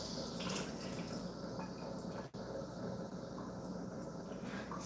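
Water runs steadily from a kitchen tap during rinsing while baking blueberry biscuits, a faint continuous splashing hiss with one brief interruption midway and no talking.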